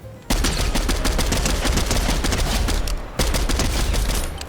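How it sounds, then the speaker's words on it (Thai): Rapid automatic gunfire from the Fortnite video game on Xbox Series S, loud and close, in two long sustained bursts split by a brief break, with no talk. "ผมได้ยินเสียงปืนเขายิงกันอยู่"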